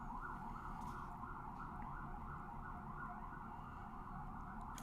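Emergency vehicle siren wailing outside, a steady cycling up-and-down tone heard faintly at a distance, continuous throughout with low traffic rumble beneath.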